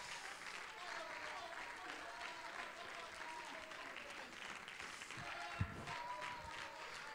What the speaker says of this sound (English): Clap your hand and love Him in this house.